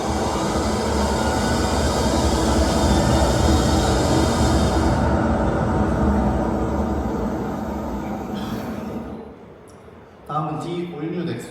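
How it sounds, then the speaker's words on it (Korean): Interior noise of a first-generation Hyundai Nexo hydrogen fuel-cell car under acceleration: a loud, steady broadband roar that holds for several seconds, then fades away before a voice begins speaking. "먼저 1세대 넥소의 가속 시 발생하는 소음입니다."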